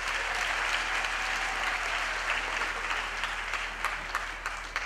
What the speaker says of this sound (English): Can we have another round of applause for the choir